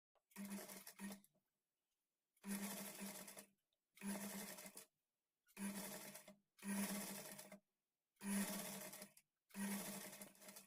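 A sewing machine stitches piping cloth along the back neck edge of a blouse, running in seven close, loud bursts with short silent pauses between them.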